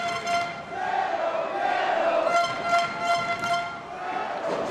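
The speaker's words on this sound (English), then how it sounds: "Crowd really getting behind Penta in this matchup" A dense wrestling crowd roars and chants in support of Penta during a live match, the noise steady and loud throughout with rhythmic shouting swells.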